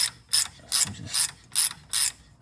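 A thread tap chasing bolt holes in the deck of a 1937 Packard Super Eight engine block, six evenly spaced loud ratcheting clicks close up, each a short sharp burst.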